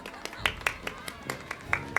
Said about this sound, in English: A round of applause for the stalwart heart.